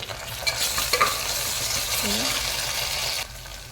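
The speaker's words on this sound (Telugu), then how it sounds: "ఉల్లిపాయలు వేగిన తర్వాత కొంచెం అల్లం పేస్ట్, కొంచెం పుదీనా వేసి వేగనివ్వాలి." Onions, ginger paste and mint frying in a pan for dal khichdi. A steady, moderate sizzle runs throughout, with a few sharp stirring clinks near the start and no talking.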